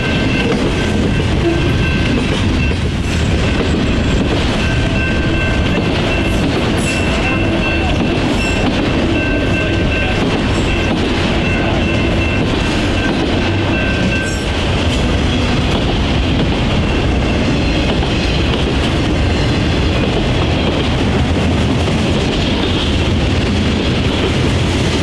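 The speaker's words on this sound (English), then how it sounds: "Is a daily Kansas City to Detroit manifest freight, with the bulk of its loads being auto parts" A daily Kansas City to Detroit manifest freight train hauling mostly auto parts rumbles past near Adrian, a loud, steady roar of wheels and cars rolling along the track for the whole stretch, with a faint voice partway through.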